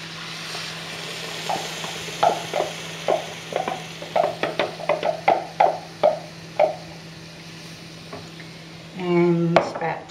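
Beef stock goes into a cooked flour mixture in a pot and a spoon stirs it, giving a run of rhythmic scraping knocks, closely miked, with a brief louder clatter near the end.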